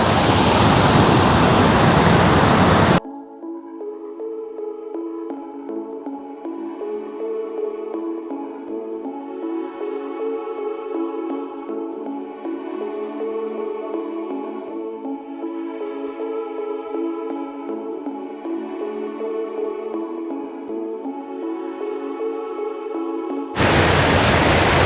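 Kuang Si waterfall in Luang Prabang, Laos, a steady broadband rush of falling water, with louder, harsher noise bursts at the start and end and faint tonal sound in the middle.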